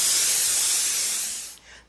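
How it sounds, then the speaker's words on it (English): A spray gun sends white paint onto a Christmas tree in a loud, steady, close hiss that holds for about a second and a half, then tapers off quickly. "I finally got this spray gun working perfect"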